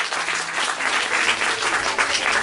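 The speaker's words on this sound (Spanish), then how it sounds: "Dale un fuerte aplauso al Padre." A church congregation claps in sustained, dense applause that holds at an even, fairly loud level throughout.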